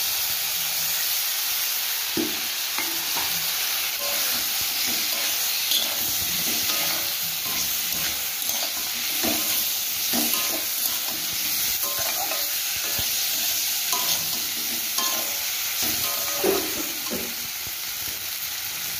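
Fried pumpkin and potato pieces are stirred into cooked spices, producing a steady loud sizzle and hiss with intermittent scraping stir sounds throughout and no talking.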